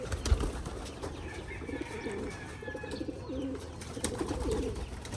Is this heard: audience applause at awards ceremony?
no